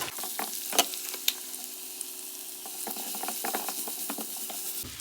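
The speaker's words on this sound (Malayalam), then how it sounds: "ഇനി നമുക്ക് ഇതിനകത്തോട്ട് നമ്മൾ കട്ട് ചെയ്ത് വെച്ച പച്ചമുളകും സവാളയും കൂടി ഇട്ട് കൊടുക്കാം." Chopped green chillies and onion sizzle in a hot pan, with a couple of sharp clacks of a spoon against the pan and stirring scrapes over a constant frying hiss.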